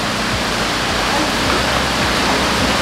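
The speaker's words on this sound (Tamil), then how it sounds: "ரொம்ப தண்ணி இருக்கு, அந்த இறைச்சலாக இருக்குது. மோட்டர் சவுண்ட் வந்து ரொம்ப இறைச்சலாக இருக்குது." Water rushes loudly at a fish farm along with motor noise, making a dense, steady roaring wash that fills the whole stretch, with a low rumble underneath.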